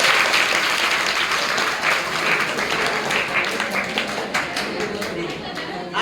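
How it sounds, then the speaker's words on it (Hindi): Loud, sustained applause from an audience at a Hindi career-guidance talk about choosing subjects, dense clapping filling the whole stretch and tapering slightly toward the end. "जो बहन ने क्वेश्चन करा है उसके लिए जोरदार ताली बजा दो"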